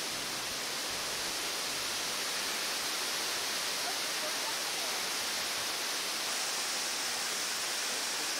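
A waterfall in a Hawaiian forest pours in a constant, even hiss of rushing water, steady and enveloping throughout with no breaks.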